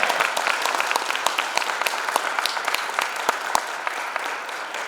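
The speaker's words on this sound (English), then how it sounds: "can we give one quick round of applause for Tony Miller" An audience at a 2023 Mountain Ridge High School Hall of Fame induction ceremony applauds in a hall. Dense, sustained clapping holds at a steady level from start to finish.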